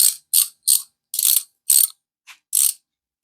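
A ratchet socket wrench tightening, close and crisp: seven short bursts of rapid pawl clicking in an uneven rhythm, separated by brief silent gaps, with no talk.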